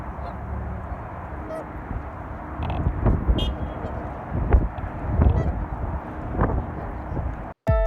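Geese honk repeatedly at close range amid passing car rumble outdoors, with scattered overlapping calls of varying loudness.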